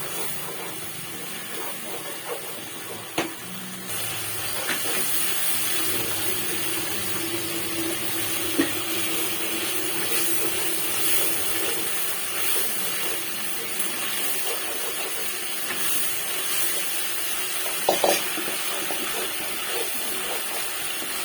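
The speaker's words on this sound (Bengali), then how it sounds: "মশলাটা আমি খুব ভালো মতো কষিয়ে নেব।" Spice paste (masala) fries in oil for a pointed gourd and poppy seed curry, giving a steady, loud hissing sizzle throughout with a few faint clinks of stirring.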